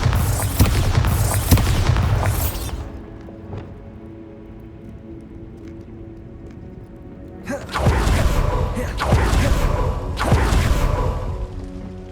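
Bombarda explosion spell in the Hogwarts Legacy video game: heavy booming blasts with crashing debris, first a burst of impacts, a quieter lull with a lingering rumble, then another series of loud concussive booms.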